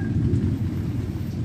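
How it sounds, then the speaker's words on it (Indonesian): Heavy rain drumming down with a deep, continuous low roar that may be thunder, steady and fairly loud, heard from a sheltered spot with no talk. "di sini lagi hujan guys"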